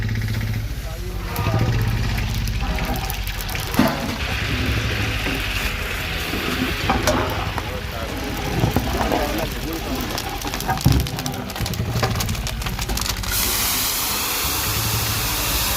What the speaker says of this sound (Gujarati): બટાકાનું શાક બનાવવા માટે લાઈવ ગરમા ગરમ અત્યારે જે તેમનો વઘાર થઈ રહ્યો છે